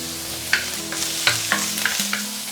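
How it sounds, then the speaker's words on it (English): Garlic, ginger and white spring onion stalks sauté in a hot wok, a soft steady sizzle punctuated by several sharp utensil clinks and scrapes from stirring, close up. "We're going to saute the garlic and ginger. And also the white portion of the spring onion stalks."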